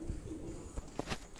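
Topi (cap-crested) pigeons coo softly on a rooftop, a few brief low cooing notes in quick succession, faint and close.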